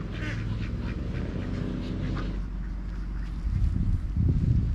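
Ducks quack close by outdoors in a busy, overlapping chorus over a steady low rumble, with the calls growing denser and louder toward the end.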